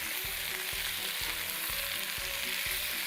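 Food sizzles steadily while being stirred in a heavy-bottomed pot, the frying hiss constant with soft regular scraping strokes close by and no voices.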